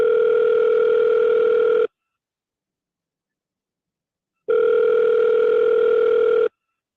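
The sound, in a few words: telephone call ringing before voicemail answers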